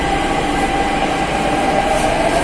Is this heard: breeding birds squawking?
no